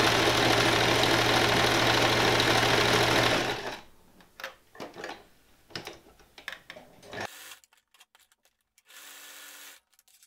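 Sewing machine stitching a fine neckline band onto a top, a loud steady mechanical whir for about three seconds, then stopping, followed by scattered soft handling noises and fabric rustles.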